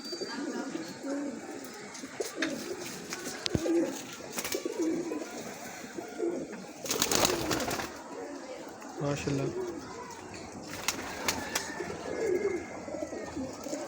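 Breeder pigeons in Islamabad, Pakistan, coo steadily through a busy stretch with other birds, while someone talks nearby over the cooing.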